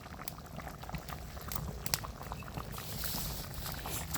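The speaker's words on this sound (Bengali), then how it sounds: "তরকারিতে ঝোল দিয়ে দিছি, বলক উঠে গেছে" Potato curry boiling in a pot, a soft continuous bubbling and gurgling of liquid heard up close but quietly, with a few small splashy pops.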